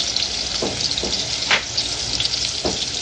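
Tomatoes sizzle and fry in a pan, a steady near crackle with a few louder stirring scrapes.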